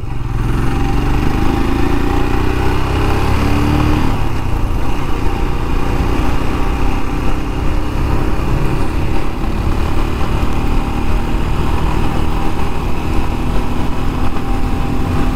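A Royal Enfield Scram 411 motorcycle engine drones loudly and steadily up close while accelerating through the gears on a road, a shift audible partway through, with no speech over it.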